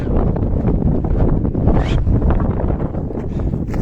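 Strong wind buffeting the microphone in a freezing, snow-buried village in Kyrgyzstan, a loud continuous roar with rumbling gusts throughout and no voices.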